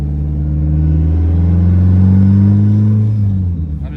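A turbocharged Dodge Neon SRT4 with a big turbo accelerating at wide open throttle, a loud close engine drone whose pitch climbs steadily through the rev range before easing off near the end.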